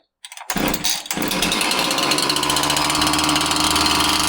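A Husqvarna 346XP chainsaw, fitted with a new fuel hose, starts abruptly after a moment of quiet, sputters briefly, then runs with a loud, steady, high-pitched engine whine up close.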